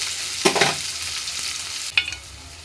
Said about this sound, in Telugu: సో మనకి ఎర్రగడ్డలు అన్నవి బాగా ఎర్రగా వేగిపోవాలి